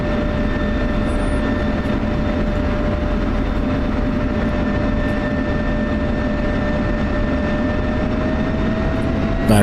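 Steady, loud roar of an F-16 fighter jet engine heard from inside the cockpit in flight, a dense continuous drone with a faint constant whine and no voices.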